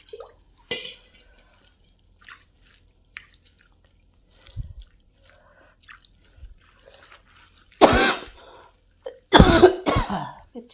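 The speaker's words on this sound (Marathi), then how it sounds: "मिरची तिखट असल्यामुळे खोकलेलं." Someone coughs hard from the heat of spicy chili. After a mostly quiet stretch with scattered drips and small clinks, two loud, close bursts of harsh coughing come near the end.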